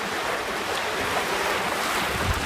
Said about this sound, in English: surfing down the waves at about 7